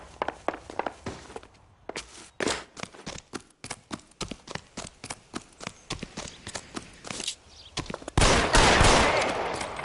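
Gunshots in L.A. Noire crack out as a long series of loud, sharp reports in an uneven rhythm, with a heavier burst of noise near the end.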